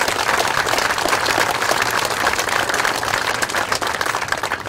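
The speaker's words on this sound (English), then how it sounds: "I'd like to give them another round of applause." Applause from an audience at a presentation of trucks to military truck drivers, a steady dense wash of clapping sustained and loud throughout with no talk over it.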